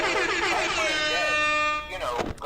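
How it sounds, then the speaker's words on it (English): An air horn from the FNAF Ultimate Custom Night video game lets out one loud, sustained, brassy blare for about two seconds, then cuts off abruptly, close and dominant. "here comes the air horn"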